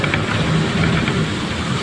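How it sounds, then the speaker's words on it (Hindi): Heavy rain pours down over a flooded village street beside a school, a steady dense wash of noise with no gaps, close and loud throughout. "भयंकर बारिश है भाई"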